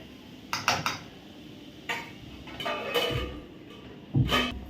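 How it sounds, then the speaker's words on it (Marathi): A metal lid is set on a cooking pan of taakla leaf vegetable, giving a few short clanks and clinks in separate bursts, close and without talk. "तर आपण ज्याच्यावर आता जरा झाकण ठेवूया"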